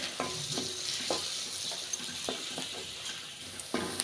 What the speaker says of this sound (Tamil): இப்போ வந்து வெங்காயம் கருவேப்பிலை ரெண்டையும் சேர்த்துக்கலாம்